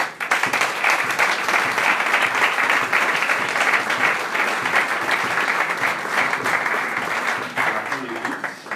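A church congregation applauds first-time visiting members in a steady, continuous wash of many hands clapping, loud and full, sustained without a break from start to finish.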